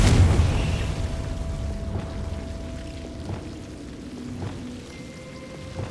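Spell blasts in the wizarding game Hogwarts Legacy, a heavy explosive burst at the start decaying into crackling, rain-like debris and a few softer pops, with no talk.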